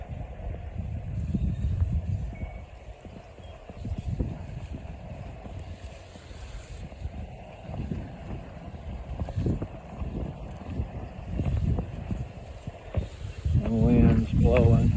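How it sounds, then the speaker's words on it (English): Strong north wind gusts outdoors in a home garden, steady low buffeting rumble swelling and easing throughout, with rustling and a brief voice-like sound near the end. "wind's blowing pretty strong today out of the north"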